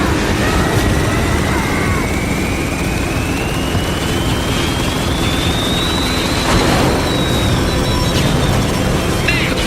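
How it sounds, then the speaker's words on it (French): Helicopters pass overhead amid a sandstorm, a steady loud roar of turbines and rotors with a slowly rising whine building across the stretch. "Avec les hélicos au cul!"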